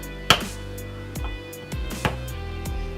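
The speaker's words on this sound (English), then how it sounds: "you're going to use your knife and you're going to take it and you're going to split it open" A knife splits open the shell of a cooked crab leg, producing a few sharp close cracks and cutting knocks spread across a few seconds, with no talk.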